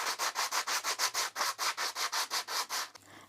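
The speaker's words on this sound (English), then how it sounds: "I'm taking a scrap piece of wood and I'm just going to sand it because it is a little rough on the edges" Rough edges of a scrap piece of wood being sanded with a chunky sanding block, a steady run of about fourteen rhythmic, close, loud rasping strokes that stop just before the end.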